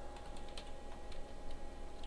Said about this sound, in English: So I'm going to type a semicolon followed by border,